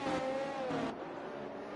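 Race cars passing during a wet race in China, a loud engine roar with spray hiss that fades quickly as the cars go by, no voices.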